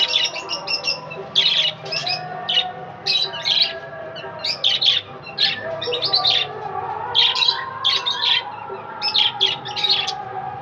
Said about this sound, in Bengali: দেখো, এইটা বেবি পাখি।